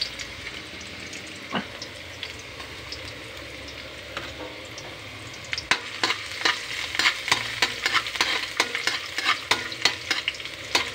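Soy sauce sizzles in a hot pan for chicken tinola. The frying hiss is quiet at first, then sharp clacks and scrapes of stirring come in a busy, uneven rhythm.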